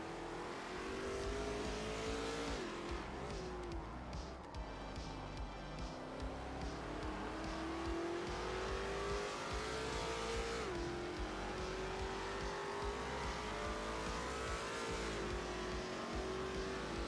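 V8 ute race cars in an Australian racing game broadcast, engines droning and rising in pitch through gear changes, a steady loud roar with pack noise layered underneath.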